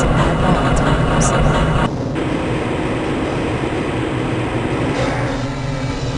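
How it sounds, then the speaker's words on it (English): A train moves through the Black Mesa transit system in the video game Half-Life: Blue Shift, giving a loud continuous rumble and rattle that drops in level partway through and then carries on steadily. "This train is inbound from the Area 8 topside dormitories to the Central Transit Hub in Area 9."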